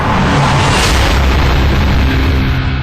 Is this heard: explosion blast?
yes